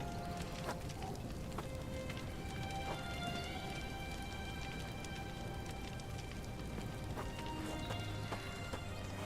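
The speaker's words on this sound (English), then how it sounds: "Rain's not gonna put out this fire." Steady rain pattering in The Bloodline video game, a dense continuous hiss with scattered droplet ticks and a faint clopping in the background, no talking.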